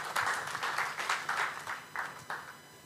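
An audience claps for a panel at a press freedom event, with about eight distinct bursts of clapping in an uneven rhythm that thins and fades toward the end.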